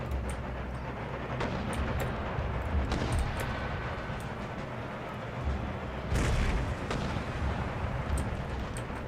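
Cannon artillery in the Empire Total War battle with Darthmod, a dense barrage of booming shots and rumbling blasts over continuous battlefield din, one heavier volley near the end, with no talk.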